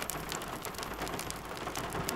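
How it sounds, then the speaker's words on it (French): Steady rain falls continuously, a dense and even hiss of drops on surfaces with no breaks and no voices. "la pluie tombe."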